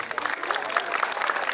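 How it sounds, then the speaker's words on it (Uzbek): Applause at a school last bell ceremony: a crowd clapping steadily in dense, even patter at moderate volume, with faint voices mixed into it. "Qarsaklar"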